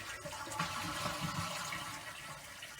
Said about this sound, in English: Check the flush.